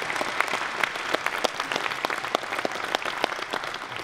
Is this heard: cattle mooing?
no